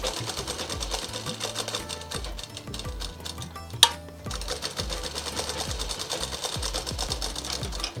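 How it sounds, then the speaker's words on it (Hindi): A sewing machine runs in quick rhythmic bursts, double-stitching the second shoulder seam of a plain frock at half an inch, close and clear, with brief pauses and one sharp click midway. "तो अब ये दूसरे कंधे की सिलाई 1/2 इंच पे डबल सिलाई करेंगे।"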